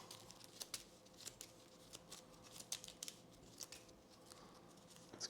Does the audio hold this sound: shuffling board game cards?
yes